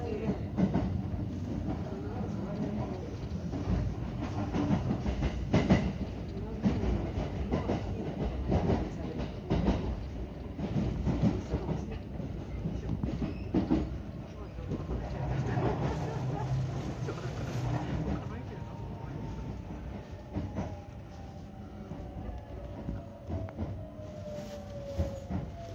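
A Japanese rapid train bound for Wakayama rumbles steadily along the rails with rhythmic clacking and a rising mechanical whine, loud and continuous throughout.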